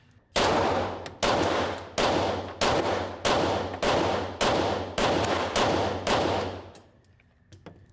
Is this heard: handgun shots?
yes